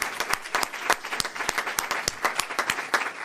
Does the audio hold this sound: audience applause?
yes